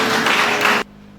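Students in a classroom clapping together, a dense burst of applause that lasts under a second and then stops abruptly.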